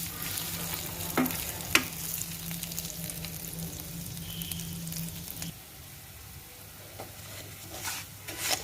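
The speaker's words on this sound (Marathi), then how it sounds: "तांदूळ गुलाबी रंग येईपर्यंत भाजून घेऊया" Rice roasting in a pan until it turns pinkish, stirred the whole time: a steady close-up sizzle with scraping stir strokes and occasional sharp clicks, no voices.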